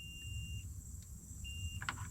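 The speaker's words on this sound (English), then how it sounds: "Multimeter set on continuity. Go on one side of the points to the post. We got a beep." A multimeter set to continuity, probed across the ignition points of an old International cab-over truck's distributor, gives a thin, steady electronic beep twice in quick succession over a quiet low hum, with a faint click near the end.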